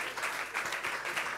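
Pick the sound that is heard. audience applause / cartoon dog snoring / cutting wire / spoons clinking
audience applause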